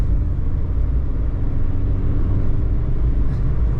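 A 1993 Ford Escort LX with a 5-speed manual pulls onto a freeway, its mid-pitched engine droning steadily under a heavy, constant road rumble, loud and close from inside the cabin.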